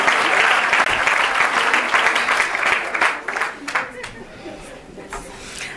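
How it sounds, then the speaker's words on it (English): A seminar audience at a women in law enforcement event bursts into sustained applause, loud and dense at first, then thinning into scattered claps with light murmuring toward the end. "Can we please give her another round of applause, please?"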